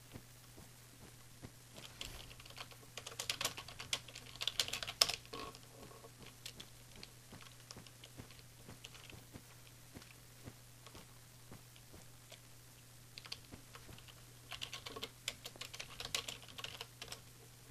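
Quiet, steady clatter of fingers typing on a computer keyboard, with busier flurries of keystrokes in places over a low background hum.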